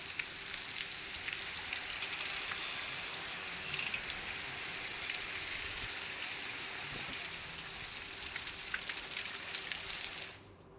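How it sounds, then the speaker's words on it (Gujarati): Steady rain falling over Rajula town in Gujarat, a continuous dense hiss of drops on surfaces with light patter, fairly faint and even throughout before cutting off at the end. "રાજુલા શહેરમાં વરસાદ વરસતા અનેક વિસ્તારમાં વરસાદી પાણી ફરી વળ્યા છે"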